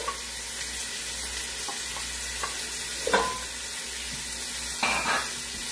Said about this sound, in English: And we saute the onion together with the beef.